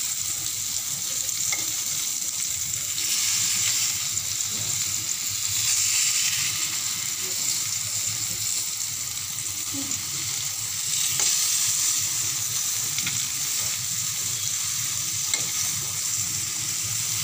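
Pointed gourd (potol) frying in a pan, a steady close sizzle with spatula scrapes and stirring that rise and fall throughout.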